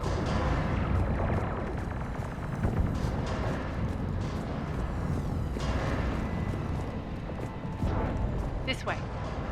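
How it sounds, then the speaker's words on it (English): Cannon fire and battle noise from the sci-fi game Mass Effect 3 form a dense, steady roar with occasional heavier booms, mixed with a background voice. "Those cannons have to be stopped."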